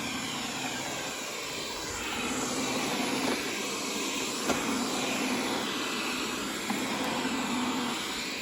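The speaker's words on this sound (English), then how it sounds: "you hear like a motor or something kicking on" Wyze LIDAR robot vacuum with its motor running, a steady whirring hum with faint broadband airflow, low to moderate in level and continuous throughout, with a couple of brief clicks.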